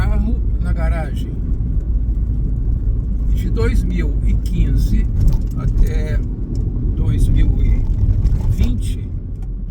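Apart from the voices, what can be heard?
smart car engine while driving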